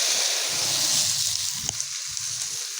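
Pumpkin thalipeeth flatbread sizzles steadily in oil on a hot tawa, a dense, continuous frying hiss close up with faint crackles and no voices.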